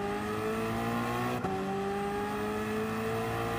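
A 1999 Toyota GT-One race car in Gran Turismo 7 drones at a steady, high engine pitch. It shifts gear with a brief dip partway through, then the tone climbs again, clear and continuous, with no voices.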